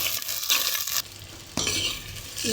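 Shallots and ginger stirred in hot oil while frying for duck curry, with a bright sizzle and scraping spoon strokes against the pan, briefly quieter midway before the sizzle returns, close and without voices.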